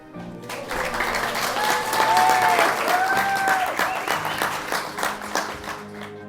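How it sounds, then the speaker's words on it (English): Wedding guests burst into a long, full round of applause after a toast to the bride and groom, dense clapping swelling and holding steady with scattered cheers and voices mixed in. "an absolutely massive round of applause"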